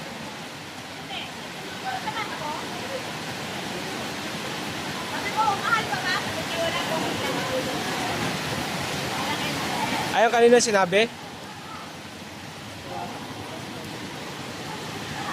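Heavy rain pours in a steady, dense wash, with people talking briefly over it and a short louder burst of voices near the end.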